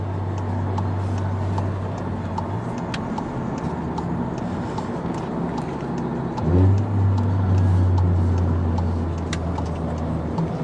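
Inside a VW GTI climbing a hill, a steady engine hum runs throughout, with a repeated light ticking knock, and the drone shifts in pitch as the car accelerates.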